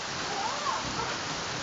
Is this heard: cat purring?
no